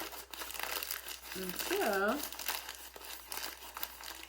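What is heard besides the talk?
crumpling and rolling a paper bag to make a bird's nest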